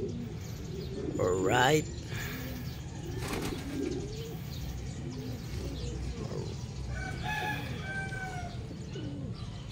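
Racing pigeons for a southern race are tossed for training outdoors, with a burst of close wing flapping near the start, then cooing and bird calls over steady ambient noise, along with brief speech.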